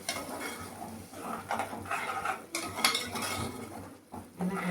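Curry mixture being stirred in a cooking pot, with a steady scraping and clinking of a spoon against metal, close and moderately loud, continuing over several seconds with small knocks.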